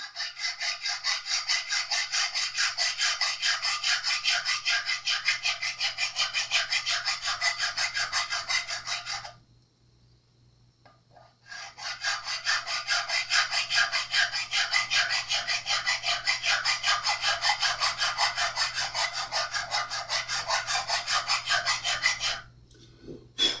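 A diamond grit file rasps back and forth over the frets of a Les Paul guitar in long steady rhythmic strokes, close and continuous, stopping briefly midway before resuming.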